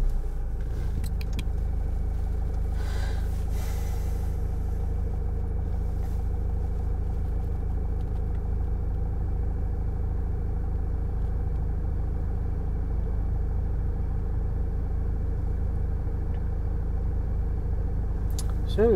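A Land Rover Freelander 2 engine runs at a steady idle throughout, a constant low rumble that stays close and even for the whole stretch, with a few faint clicks and rattles near the start and at the very end.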